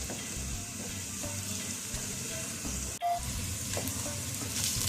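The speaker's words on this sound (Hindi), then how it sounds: "ये हमारी प्याज कुक हो रही है" Onions fry in a pot, sizzling steadily and loudly with a dense hiss throughout, briefly interrupted by a single stir or clank about midway.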